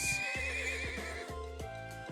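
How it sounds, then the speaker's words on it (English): In the Trails of Cold Steel video game, a horse neighs with a loud, bright whinny while hooves clip-clop steadily and repeatedly underneath. "I'm on the horse now. Time to ride."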